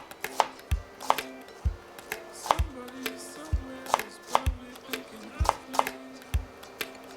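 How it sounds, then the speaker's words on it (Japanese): A kitchen knife coarsely minces food on a cutting board in brisk, regular chops, about two per second, sharp and close with soft scraping between strikes. "これはね、まさかのみじん切りです。 ちょっと粗めのみじん切り。"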